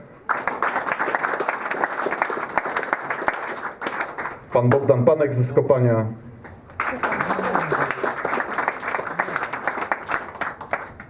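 Applause from the audience at a charity running event wrap-up, thanking the sponsors, rises and falls across the stretch while a voice talks over it and a brief sung or tonal passage cuts through the middle.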